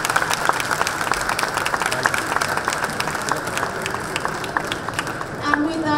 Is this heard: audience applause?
yes